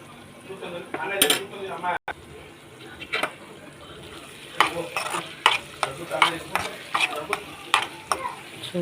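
A spatula scrapes and stirs egg poruttu, scrambled egg with tomato and chilli powder, in a pan, giving a run of clinking, scraping strokes over a soft sizzle. The strokes are sparse at first, then come quicker and steadier toward the end.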